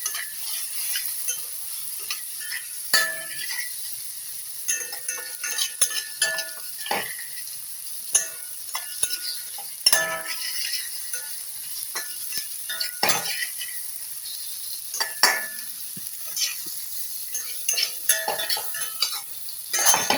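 Dry-roasted cumin and coriander being stir-fried in a pan for raw banana kofta curry: soft sizzling under a long run of scattered spatula scrapes and clinks against the metal, close and fairly quiet.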